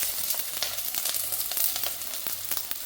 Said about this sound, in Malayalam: ഇനി ഇതാ മറ്റൊരു ചട്ടിയിൽ വെളിച്ചെണ്ണ ചൂടാക്കി അതിലേക്ക് ഇതാ ചെറിയുള്ളി അരിഞ്ഞത് ഇട്ട് കൊടുക്കാം